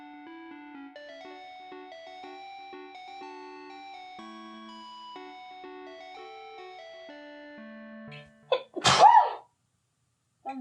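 A single loud, sharp human sneeze bursts out near the end, following quiet chiming electronic game music that plays alone beforehand.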